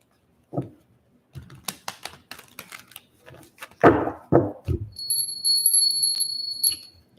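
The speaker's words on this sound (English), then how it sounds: "we'll ring the bell" A small bell struck during an energy-clearing ritual, a few sharp rings near the end leaving a long bright sustained tone, after scattered taps, clicks and handling noises close by.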